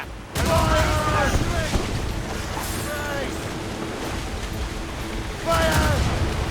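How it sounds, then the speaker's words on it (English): Ship cannons fire volley after volley in the naval combat of Assassin's Creed Rogue Remastered, loud broad booms and rumbling blasts filling the clip, with bursts returning strongly near the start and end while shouted voices call out over the battle. "Fire many volleys."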